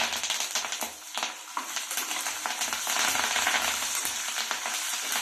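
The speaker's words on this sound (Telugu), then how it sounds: "ఇప్పుడు ఇందులో కరివేపాకు కూడా వేసుకొని వేపుకుందాము." Almonds and curry leaves crackle and sizzle in hot oil in a nonstick pan for pulihora, a steady close frying hiss with scattered sharp pops and faint stirring clinks, no voices.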